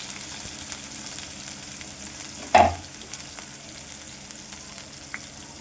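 Mustard seeds, onion and three dried red chilies fry in oil in a kadai, giving a steady, close sizzle with one sharp clatter midway and a few light ticks.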